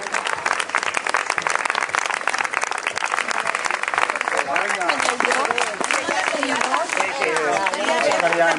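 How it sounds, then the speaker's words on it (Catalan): Crowd at the finish line of a Trailwalker charity trail walk cheers and claps as a team arrives at Monistrol, steady applause with voices and shouting mixed in, growing busier with chatter in the second half. "Un fort aplaudiment a aquesta lliga accidentada."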